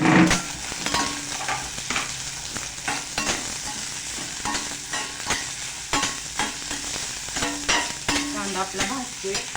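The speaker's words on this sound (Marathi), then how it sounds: "कांदा आपला भाजतोय" Finely chopped onion fries with garlic in a pan for a home-style Maharashtrian thali, giving a steady close sizzle broken by repeated stirring scrapes and clatters, with no talking.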